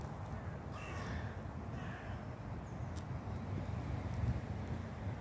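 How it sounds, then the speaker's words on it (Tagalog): Two distinct caws from crows in a children's park in the Philippines, spaced about a second apart, ring over constant gusting wind noise. "Ayun mga ibon."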